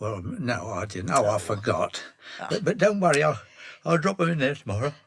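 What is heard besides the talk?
No everyday noise stands out behind the speech.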